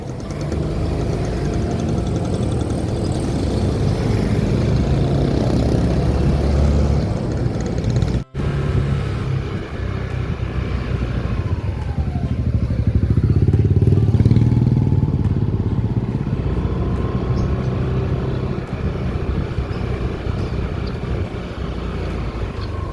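Yamaha NMAX V3 scooter engine using YECVT turbo shift, a close loud continuous engine drone that swells in revs midway and settles back, with no talk.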